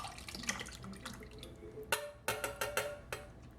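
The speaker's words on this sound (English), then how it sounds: "Just add that whole can of peaches to your pot." Canned peaches tipped from the can into a cooking pot, heard as soft wet drips and several sharper splashes and plops that land in quick bursts before fading.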